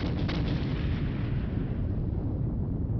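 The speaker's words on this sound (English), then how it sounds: "that's definitely a Hollywood explosion if I've ever heard one" An underwater torpedo detonation in the submarine game 688(I) Hunter/Killer roars as a loud, sustained rumbling explosion that slowly fades out, heard alone with no voices.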